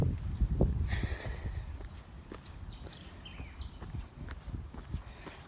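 Horse hooves clop along a riverside park trail in a loose, uneven walking rhythm at moderate distance, with faint birdsong and outdoor ambience around them and no voices.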